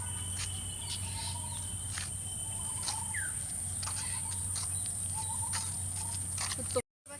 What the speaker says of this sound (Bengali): পাখিদের সুন্দর সুন্দর কলরব শোনা যাচ্ছে।